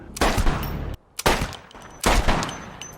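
Three loud, close gunshots in a film scene, each a sharp blast with a ringing tail, spaced roughly a second apart and heard alone.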